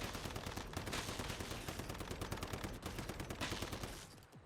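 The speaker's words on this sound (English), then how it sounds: "We're just firing away." Sustained rapid automatic gunfire from a rifle in the shooter game Once Human, loud dense bursts firing continuously with brief pauses, then tapering off at the end.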